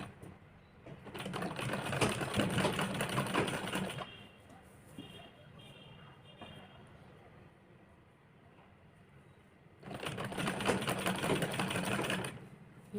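A sewing machine stitching fine piping along the edge of a princess-cut belt blouse, two bursts of rapid mechanical whirring separated by a quieter pause, close and moderately loud.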